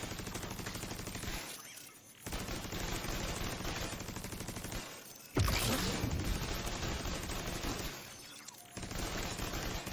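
Assault turret in The Division 2 firing sustained automatic bursts, a dense rattling stream of gunfire broken by short pauses and a louder impact jolt midway, with no talk.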